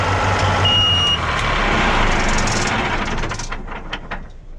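A 2008 Case IH Challenger tractor used for heavy tillage, idled to cool for five minutes, runs with a broad engine roar plus a short beep, then winds down and fades as the engine shuts off.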